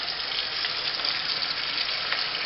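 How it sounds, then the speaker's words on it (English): Tap water runs steadily into the bottom of a kitchen sink while a turkey is being prepared, a continuous close hiss and splash with no talking. "And then you turn on a little bit of water and put it in the bottom of the sink."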